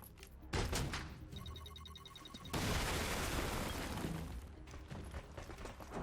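Explosions in the XCOM Chimera Squad video game: a sharp blast opens, then a beeping pattern before a second heavy boom with a long roaring rumble and debris that gradually settles.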